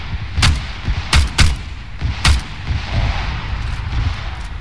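Cannon fire in Arma 3, heard as four loud, sharp blasts in quick succession over a low rumbling battlefield background, with no talking.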